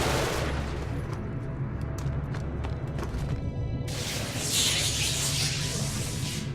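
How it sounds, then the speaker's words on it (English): Enemy spitting acid in the sci-fi game Genesis Alpha One, a steady rough stream of gunfire-like bursts with sharp clicks, swelling into a brighter hissing spray midway; loud and continuous, no voices. "Oh, he's shooting already. Shooting acid already."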